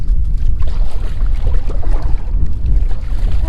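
Strong wind buffets the microphone outdoors on open water, a loud, steady low roar with constant gusting rumble and no talking.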